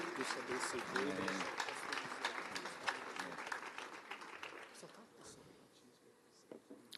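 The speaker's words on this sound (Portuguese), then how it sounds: "Vamos aplaudir ao Senhor pela vida dele." Church congregation applauding during a service, a dense run of clapping that gradually thins and fades, with voices mixed in over the hands.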